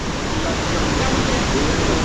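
Loud, steady roar of a monsoon-swollen river rushing past Marleshwar waterfall in the Konkan, a dense unbroken wash of noise, close by.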